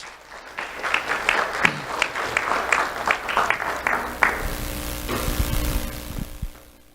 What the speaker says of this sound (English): Let's have a round of applause for Ava Bartz